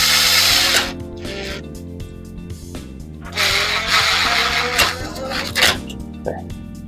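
Cordless power drill whirring in short bursts as it tightens a clamp holding electrical wire in a basement room during dimmer switch installation, close and fairly loud, with brief pauses between runs.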